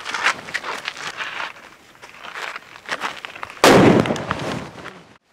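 Diwali firecrackers going off in a village celebration, a run of sharp pops and crackles capped by one loud nearby bang that rumbles on for a second before fading.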